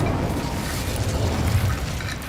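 Incendio fire spell cast in Hogwarts Legacy, a steady low roaring burst of flame that holds at an even level throughout, with no voices over it.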